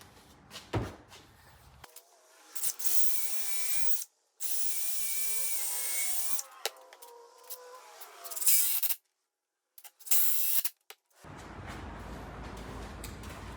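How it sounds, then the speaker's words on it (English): Cordless drill driving wood screws into a garage shelf, a couple of loud whirring runs with abrupt stops and clicks between them, close up. "there'll be two here, and I'll screw them in"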